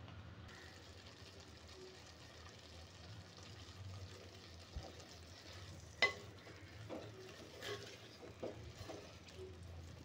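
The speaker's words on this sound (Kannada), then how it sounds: "ಸಣ್ಣ ಉರಿ ಮೇಲೆನ ಬೇಯಿಸತ್ತೀನಿ, ಫ್ರೈ ಮಾಡ್ಕೊಳತ್ತೀನಿ." Broad beans fry in a pan over a low flame and are stirred now and then. A faint, steady sizzle runs throughout, broken by a few soft spoon scrapes.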